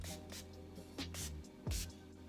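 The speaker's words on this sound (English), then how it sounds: "I'm gonna set everything in with the Milani Make It Last setting spray" Milani Make It Last setting spray hisses in two short, soft bursts a moment apart, over a faint hum of background tones.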